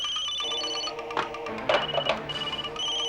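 Telephone ringing in a Hindi TV suspense serial, a steady electronic ring tone sounding continuously with brief clatter and rustle midway, fairly loud and close with no talk.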